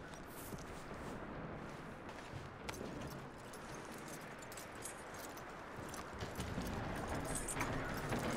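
Horse hooves clip-clop steadily in the video game Red Dead Redemption, a continuous run of quick, moderately faint footfalls set against a broad wash of outdoor ambience across the whole stretch.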